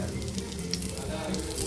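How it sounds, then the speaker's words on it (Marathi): Stuffed green chillies shallow frying in oil, a steady close sizzle and crackle at moderate level running throughout, with a voice speaking over it. "थोडंसं जर झालं ना फ्राय की त्यांना लगेच हे बघा लगेच खरपूस भाजले जातात ते"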